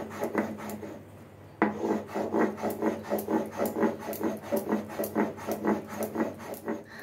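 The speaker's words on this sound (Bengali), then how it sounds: "গরম মশলাটা আমি প্রেফার করি একটু শিলে বেটেই দিতে" Garam masala being ground by hand on a flat grinding stone, a rhythmic rasping scrape repeating back and forth at a steady pace after a short quieter start, close and clear.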